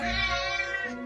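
A single drawn-out cry from a cat, sounding close and sustained, with no other sounds.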